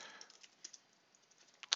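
Quiet taps on a computer keyboard while entering a code into accounting software, a few scattered keystrokes with a louder final press, faint and without speech.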